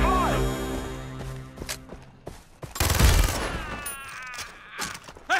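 Scout units in a video game loose scattered gunfire: sharp cracks through the first seconds, a louder volley burst midway, then lighter shots under game voices and music.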